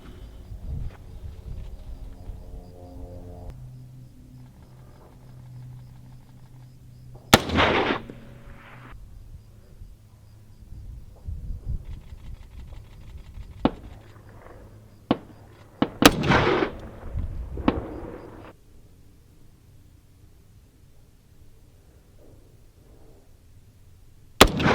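Two sharp, loud rifle shots from an AR-10 with a Mega lower, monolithic upper and Nightforce scope, fired at a 15-inch steel plate 600 yards away outdoors. The shots come well apart over a low, rumbling outdoor background.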